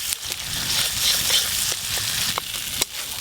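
Spice paste of ginger, cumin and dried red chili with turmeric fries in hot oil for a crab curry, giving a steady close sizzle with a few sharp spatula taps.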